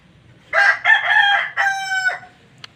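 A rooster crows nearby, a loud multi-part cock-a-doodle-doo with a rising start and a long held final note, against quiet background.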